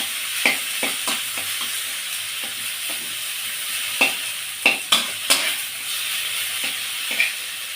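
Steamed taro leaves fry in a pan while being stirred and turned, a continuous close hissing sizzle broken by irregular sharp scrapes and knocks of the spatula, with no talking.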